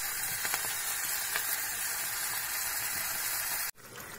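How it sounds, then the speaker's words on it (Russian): Oyster mushrooms, cut into large pieces, fry in vegetable oil in a preheated pan, giving a steady broadband sizzle that holds evenly for about four seconds before cutting off abruptly. "Грибочки нарезаем крупно и отправляемся жарить."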